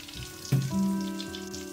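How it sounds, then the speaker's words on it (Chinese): Pear pieces deep-fry in hot oil for a second frying, giving a faint, close sizzle with a soft splash-like burst as they drop in, then a gentle bubbling hiss. "我们把它们在下入的油锅中复炸一次"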